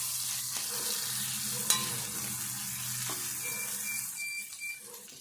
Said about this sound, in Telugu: ఈ అల్లం వెల్లుల్లి పేస్ట్ కూడా కొద్దిసేపు మంచిగా గోలాలి